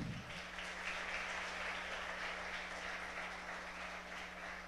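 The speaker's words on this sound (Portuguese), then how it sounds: "Aplauda o Senhor nessa noite." A church congregation applauds during an evening service, a soft, distant, even wash of clapping over a low electrical hum.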